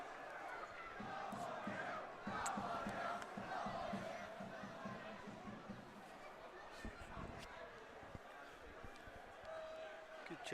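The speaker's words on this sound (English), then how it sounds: "that's got the crowd going" A football crowd at a Scottish league match between Ayr United and Dunfermline roars and cheers around a corner kick, a broad distant swell of voices with rhythmic chanting bursts and a commentator talking over it.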